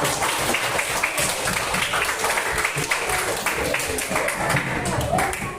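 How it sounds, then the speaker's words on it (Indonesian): Students clapping in a classroom during a coding lesson, a loud, busy patter of many hands that continues throughout, with voices and chatter mixed into the clapping. "Beri tepuk tangan."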